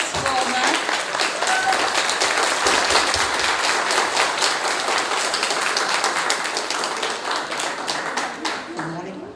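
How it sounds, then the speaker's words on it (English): School independence day celebration audience clapping, a thick continuous round of applause that holds steady for about nine seconds and fades slightly at the end. "A round of applause for ma'am."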